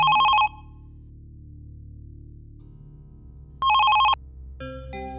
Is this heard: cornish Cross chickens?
no